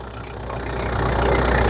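A BJ73 engine with overheating and head gasket trouble idles steadily nearby, a low continuous rumble with faint rhythmic knocking, gradually growing a little louder.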